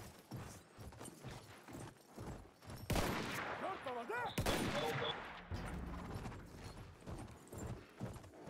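Gunfire in a video game cavalry battle, with rapid volleys and sharp shots over galloping hoofbeats, louder bursts at about three and four and a half seconds, and someone speaking at times.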